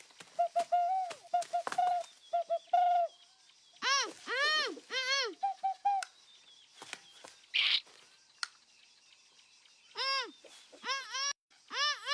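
A person imitates a bird call with a run of whistled chirps and warbling swoops in short bursts separated by pauses, close and fairly quiet, with a brief breathy hiss midway.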